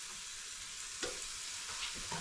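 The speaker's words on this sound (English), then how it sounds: "You hear it sizzling?" Honey barbecue chicken sizzles and crackles steadily in an air fryer, close by, with a few light clinks and taps of a utensil against the basket.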